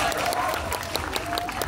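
Applause from an audience at a Sumedang regional dance event, with dense, steady clapping close at hand, over faint background talk.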